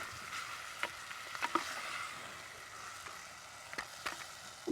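Onions and spices sautéing in a pan for a village-style country chicken curry, a steady soft sizzle with scattered crackles and occasional stirring scrapes, fairly faint and close.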